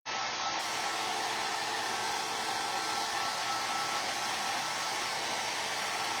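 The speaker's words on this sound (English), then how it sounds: "I just don't want this to smear, so I'm gonna dry it" A heat tool blowing to dry ink on a floral 4th of July craft door hanger: a steady, loud, unbroken airy roar that starts abruptly and holds evenly throughout, with no speech.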